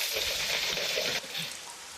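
Heavy rain pours steadily, a dense close hiss that drops a little in loudness partway through.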